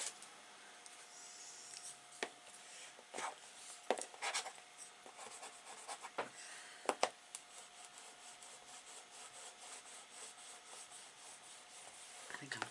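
A bone folder rubs and scrapes across paper while a mini recipe album is made, giving soft, close, intermittent rasping strokes in a quiet room.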